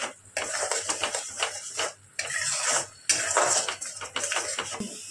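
A pan of spice paste with coriander powder and a little sugar being stirred and fried, heard as continuous sizzling with repeated scraping and clinking of a utensil against the metal.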